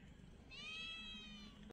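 A cat gives a single drawn-out meow lasting about a second, fairly faint against a steady background hiss.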